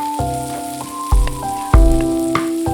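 Ginger shreds frying in hot oil in a wok, a steady close sizzle with a sustained tonal hum running underneath and two heavier bursts of crackle partway through, no voices.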